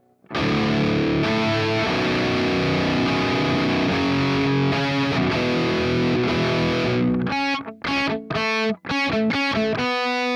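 A heavily distorted electric guitar through a 4x12 cabinet with Vintage 30 speakers plays loud sustained chords for several seconds, then switches to choppy palm-muted stabs with brief gaps between them.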